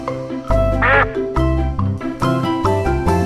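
Duck quacking, a loud close quack followed by a few more nasal calls, heard over a light musical backing with no talking.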